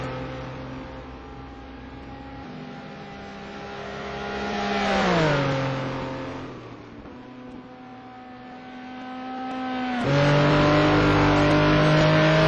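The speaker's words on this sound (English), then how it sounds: "we are watching one of these classic fights, like in the old Formula 1 TV, like 3 cars in a slipstream duel." STC touring race cars dice in a tight slipstream pack at the Rouen circuit, their engines droning loudly and steadily. Pitch bends down as they lift and brake, then the roar swells again as they accelerate close by.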